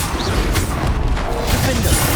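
A Confringo fire spell bursts in Hogwarts Legacy on PS5, a loud, dense blast of rumbling, crackling noise that fills the whole moment.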